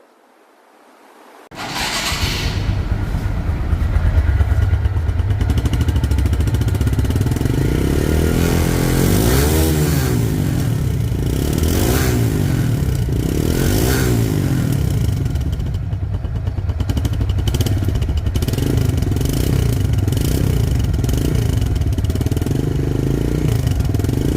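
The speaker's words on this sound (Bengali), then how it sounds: "গাড়িটির সাউন্ড শুনলে আপনারা বুঝতে পারবেন যে গাড়িটির ইঞ্জিন কোয়ালিটি কেমন আছে" After a short quiet start, a 2021 TVS Stryker 125 motorcycle engine starts and idles loudly up close, a steady throbbing rumble with a few revs along the way.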